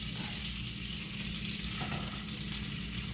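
A burger patty sizzles loudly in a hot pan as it is flipped, a dense steady crackle of frying fat heard close up with no talking.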